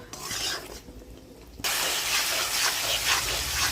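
A thin curry with tomato, bay leaf and turmeric is stirred and sautéed in a pan, a quieter scraping start giving way abruptly to a louder, steady sizzle and hiss.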